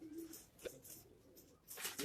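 Red netted pigeons coo softly in short, faint bursts, with a couple of brief sharper calls and low background noise.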